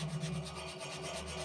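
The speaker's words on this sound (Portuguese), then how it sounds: "Ó, meu marido tá lixando, né? Ele tá dando aquela lixadinha" Sandpaper rubbed over an iron wood-burning stove after rust remover has been applied, a close, steady back-and-forth scraping rasp in a quick even rhythm, with no one speaking.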